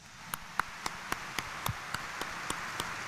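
A congregation at a morning Mass in Quiapo Church applauds with faint, evenly spaced single claps ticking steadily over a low room hum, thin and rhythmic rather than a loud burst.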